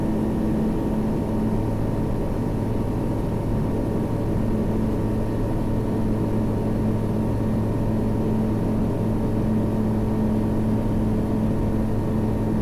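Steady, loud seaplane engine drone during takeoff from a lake, a constant hum and whirring tones, unbroken throughout, the small aircraft motor running at high power.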